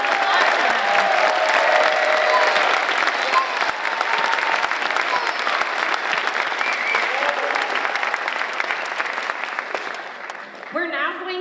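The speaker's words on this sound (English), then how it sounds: "One more big round of applause for them" An audience at an elementary school fifth grade graduation and awards ceremony gives loud, continuous applause that fades slightly toward the end, where a brief voice follows.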